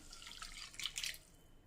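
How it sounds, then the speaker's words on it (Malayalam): Water splashes and trickles into a pan in a brief, quiet pour. "ഇനി നമുക്ക് ഇതിലേക്ക് ആവശ്യത്തിനുള്ള വെള്ളം ഒഴിച്ചു കൊടുക്കാം."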